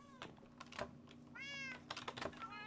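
Cats in the Minecraft video game, several short meows in quick succession, close and clear, with clicky keyboard typing mixed in.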